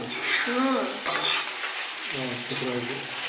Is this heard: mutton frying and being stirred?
yes